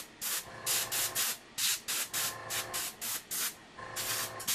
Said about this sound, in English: I have my airbrush here